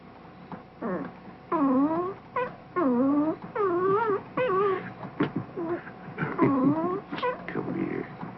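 A newborn puppy in a classic 1976 horror film whimpers close up in a series of high, wavering whines and yelps, repeated one after another with short pauses, over a faint background hiss.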